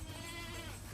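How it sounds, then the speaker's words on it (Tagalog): Thirsty goats bleat in hot weather, a steady, close, fairly loud animal sound filling the whole second with no talking. "Uhaw na uhaw ang ating mga kambing, sobrang init."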